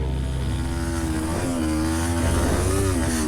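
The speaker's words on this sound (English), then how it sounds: "the bike wasn't going to survive much longer being abused like this" A cheap dirt bike engine is ridden hard, producing a loud, continuous, buzzing drone that rises and falls in pitch as the throttle shifts, heard close and alone.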